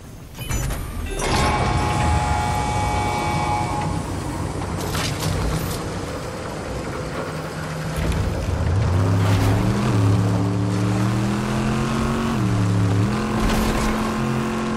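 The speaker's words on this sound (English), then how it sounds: "There you go, guys. A new car." A car engine in the video game Fortnite, a loud sustained motor drone that rises and shifts pitch as the vehicle accelerates and changes gear, heard alone without talking.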